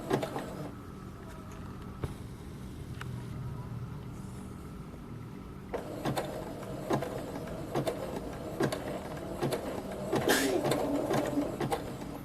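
A sewing machine stitches fabric for a skeleton-themed bag, its motor whirring in slow, steady runs close by, with pauses and small clicks of handling between bursts.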